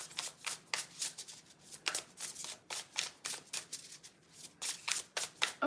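Tarot cards riffle-shuffled by hand, close and crisp, in a rapid series of papery bursts that repeat roughly every half second without pause; no talk.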